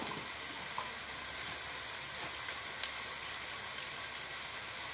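Spices with salt, turmeric and red chili sizzle steadily in a pan on a village kitchen stove, a soft continuous hiss with a faint clink near the end, no voices.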